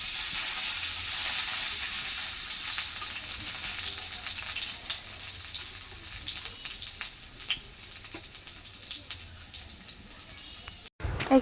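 Onions fry in a pan with cumin, garlic, chili, turmeric and salt, giving a continuous close sizzle with faint stirring scrapes. A brief clatter comes near the end.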